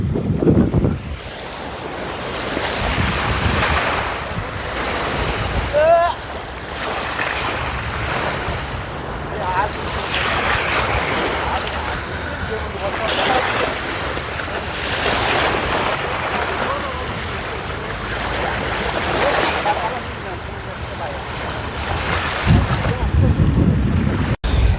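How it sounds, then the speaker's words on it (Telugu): Sea waves break and wash up on a beach during a morning swim. The surges roll in repeatedly and closely with wind rumbling on the microphone, and people talk over the surf at times. "ఈరోజు అలలు అయితే ఎక్కువ వస్తున్నాయి"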